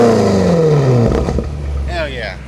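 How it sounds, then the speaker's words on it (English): Close by, a BMW X5 Competition with a G Exhaust drops off a rev into low, rumbling burbles and crackles, engine settling to idle as a voice talks over the tail end. "You heard those burbles?"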